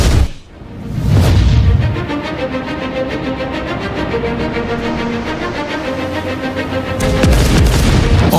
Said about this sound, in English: The roar from primary armament fire is a three-layered sound.